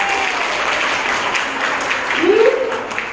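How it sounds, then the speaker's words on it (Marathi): Applause for ninth-grade students at a school Marathi Language Day event, a steady wash of many hands clapping in a hall, with faint voices and a brief tonal call rising near the end. "तर सर्व नववीच्या मुलांसाठी जोरदार टाळ्या झाल्या"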